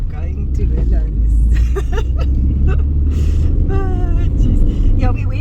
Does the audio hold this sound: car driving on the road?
yes